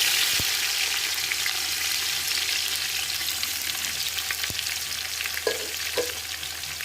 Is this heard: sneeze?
no